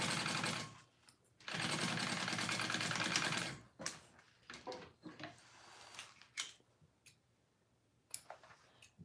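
A sewing machine basts the top edge of a wallet flap at an eighth of an inch, running in two short bursts, the second longer, followed by sparse clicks and handling noises.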